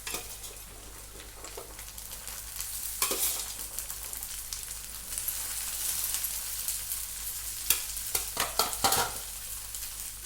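Okra sizzles in a pan over low heat, a steady close crackle of frying with spatula scrapes and clinks of stirring that grow busier toward the end.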